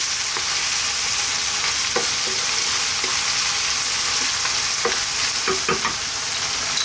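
Fresh chilies frying in a pan of Indian-style lamb curry (methi gosht), a constant bright sizzle broken by scattered scraping stirs, close and unaccompanied by speech.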